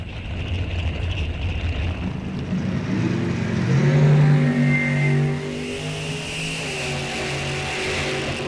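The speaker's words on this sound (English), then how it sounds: "Corvette versus Firebird." A Corvette and a Firebird launch side by side down a drag strip, engines roaring loudly and building in pitch as they pass close by, with a steady motor drone carrying through to the end.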